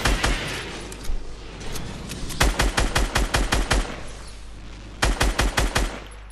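Rapid automatic gunfire from a Fortnite Battle Royale match, loud bursts of sharp repeated shots in two clear volleys over a noisy game background, no talking.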